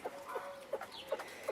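Laying hens, some five years old, cluck softly on a farm, a few short, evenly spaced low clucks, faint and close, with no talk.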